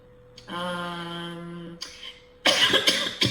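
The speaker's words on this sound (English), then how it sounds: "I didn't mean to cough in the mic, that was rude." A loud cough bursts close to the microphone, harsh and rough, following a brief sustained tonal hum.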